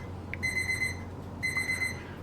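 An oven timer alarm beeps in a home workshop, two bursts of rapid, evenly spaced high beeps separated by a short pause, moderately faint over steady background hum.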